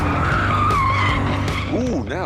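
A BMW M3 driven fast on a test track, with loud, continuous engine roar and squealing tyres throughout, the pitch sweeping up and down near the end.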